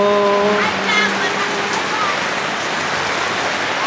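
Steady broadband rain hisses throughout, with water pooling, at a street market in Cuayan, Angeles City, Pampanga, with a brief tonal voice or hum at the start fading after the first second.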